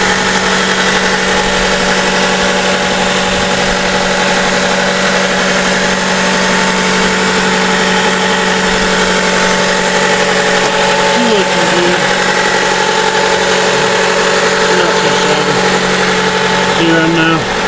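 A Honda car's engine idles steadily for a long stretch, a loud continuous hum with a low drone and faint tonal whine that barely changes, while a person talks over it at times.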